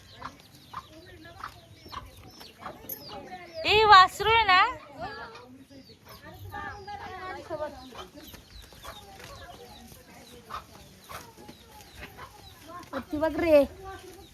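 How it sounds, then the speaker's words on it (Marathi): A hen with small chicks clucks near a bitter gourd farm, soft repeated clucks with a few louder bursts, while people talk nearby. "इथे बघा कोंबडी छान, तिने छोटी छोटी पिल्ले आहेत तिची."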